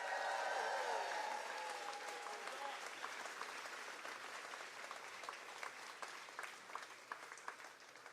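A crowd at the Graves County Fancy Farm Picnic in Kentucky claps for two musicians, loud dense applause at first that gradually thins into scattered, fading claps.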